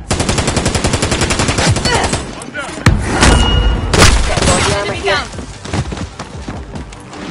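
Loud, rapid automatic gunfire opening in a steady rhythmic burst, followed by heavy booming shots and scattered cracks, with voices shouting in between.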